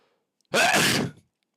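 A single sneeze bursts out close and loud, a short breathy explosion of about half a second, with near-silence before and after.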